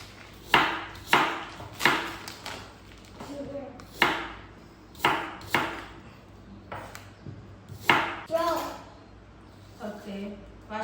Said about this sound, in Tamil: ஸோ கியூப் கியூபாக கட் பண்ணிட்டு